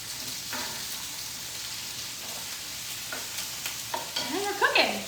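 Chili shrimp and snow peas sizzle in a hot pan under a steady frying hiss, with a few soft stirring scrapes and a louder clatter near the end.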